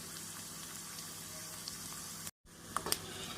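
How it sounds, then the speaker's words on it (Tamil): Potato chip slices deep frying in hot oil over a medium flame give a steady, close, even sizzle that drops out for a split second before resuming with a few sharper pops. "நாம் அனைத்து உருளைக்கிழங்கையும் இப்படி நன்றாக பொரித்து எடுத்து விடலாம்."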